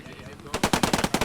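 Rapid machine-gun fire in the Post Scriptum war game, a loud burst of about eight evenly spaced shots after a brief quiet lead-in.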